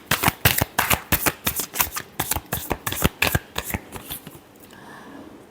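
Tarot cards are riffled and shuffled in a quick run of sharp, crisp flutters and snaps, about a dozen rapid bursts close to the microphone, then a quiet tail. There is no talking.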